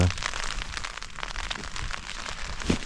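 Heavy rain drumming on a tent during an evening in the hills of northwest Scotland, a dense and steady patter close overhead with no voices.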